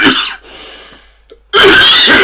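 A single close cough bursts out, followed by a quiet pause and then a second loud, harsh burst of noise.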